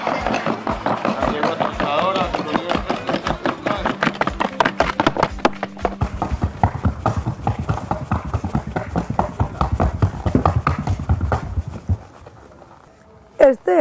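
Rapid, even hoofbeats of a Colombian horse in trocha gait clatter close by in a quick steady rhythm, with voices talking throughout, ending in a brief pause and a couple of sharp knocks.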